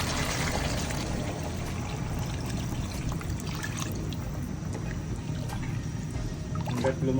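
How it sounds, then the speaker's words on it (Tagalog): Water pours steadily into a pot of Filipino beef kaldereta, a continuous close splashing trickle lasting several seconds with no talk. "Lalagay na tayo ng tubig."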